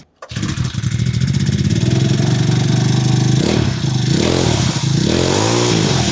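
A cheap budget motorcycle bought online runs steadily off choke after a brief start, its loud, buzzing engine close by with small rises and dips in revs and no talking.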